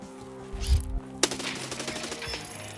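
G36 rifle fire in Escape from Tarkov: a thump, then a sharp loud shot followed by a rapid string of fainter rattling rounds fading into background game noise.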